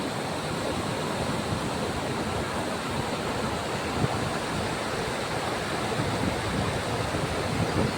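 The Gayathri river flows beside a Shiva temple in a continuous, even rushing wash of water, constant in loudness throughout with no voices.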